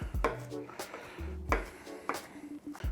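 A knife chops herb leaves finely on a board for a rack of lamb dish, with sharp repeated thuds in an uneven rhythm, close and clear, with a few faint clinks between strokes.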